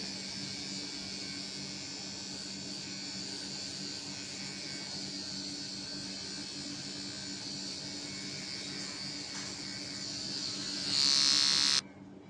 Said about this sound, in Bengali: আমরা ট্রিমার দিয়ে ব্যাক সাইডটা পুরো ক্লিন করে দেবো